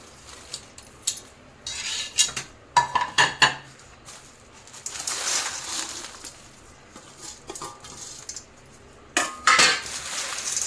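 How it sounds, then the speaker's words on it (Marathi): Dry whole spices, including broken turmeric root and dried ginger, being stirred and mixed together in a metal pot, giving repeated clattering scrapes and clinks in bursts, fairly close and alone without talk. "आता आपण या याच्यामध्ये मिक्स करूया हे मसाले सर्व आता आपल्याला एकत्र करायचे आहे"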